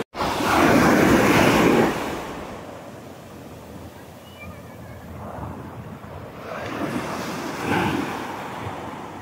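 Ocean waves break beside a seaside viewing deck in Olongapo City. One loud surge crashes early, then wind-blown surf keeps washing in with another swell building near the end.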